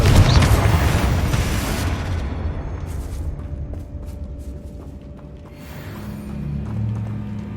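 Confringo explosive spell blast in Hogwarts Legacy, a loud, close, rumbling boom that decays over a couple of seconds into lingering low rumble and scattered crackles, with another swell of rumble near the end.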